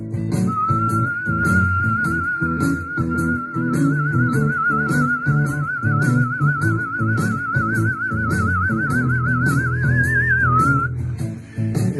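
A palatal whistle holds a long clear tone that wavers into a fast vibrato near the end, loud and up front over a low murky rumbling backdrop, with no speech.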